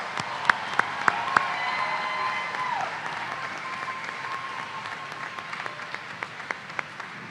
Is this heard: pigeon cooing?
no